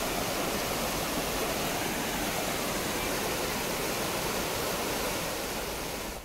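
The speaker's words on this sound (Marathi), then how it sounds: "बोरवान नदीला पूर सदृश परिस्थिती निर्माण झाली आहे" Floodwaters of the Borwan River in Taloda taluka, swollen by unseasonal rain, rush in a steady, dense roar that holds evenly throughout with no voices.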